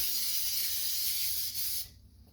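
Vegetable oil hisses steadily from a spray can onto a grill for nearly two seconds, loud and close, then cuts off into quiet.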